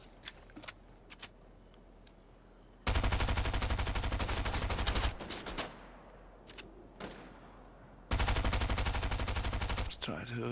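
Automatic weapon fire in the Fortnite video game, two long sustained bursts of rapid dense shots separated by quieter stretches with scattered single shots and game effects, no talk over it.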